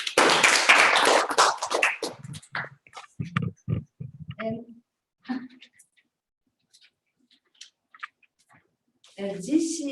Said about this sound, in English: Please welcome him as a big applause.